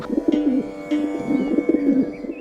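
Pigeons coo nearby in soft, repeated low throaty calls that run continuously with a few brief sharper chirps mixed in.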